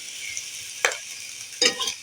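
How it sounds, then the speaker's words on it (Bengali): Hopa, a gourd-like vegetable, frying in a pan for a jackfruit-seed dish, with a soft steady sizzle and two brief louder bursts of stirring or scraping, no voices. "একটু হোঁপাটা ভাজলে হোঁপার টেস্টটা বেরিয়ে আসবে"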